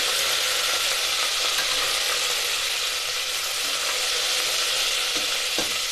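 Crushed ginger-garlic paste hits hot oil in a pan with a loud, dense, unbroken sizzle throughout, with a couple of faint utensil clicks near the end and no speech.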